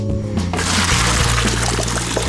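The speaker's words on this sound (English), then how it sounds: "grab my noodles now, stir them because they're done, and I'm going to pour them into my colander" Cooked noodles and their water poured from a pot into a colander while making mac and cheese, a steady close rush of pouring, splashing water that runs without a break.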